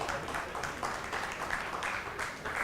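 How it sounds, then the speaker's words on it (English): Steady applause from a conference audience at a payments industry event, a dense wash of clapping at moderate volume with no voices standing out. "a big round of applause for Ken, please"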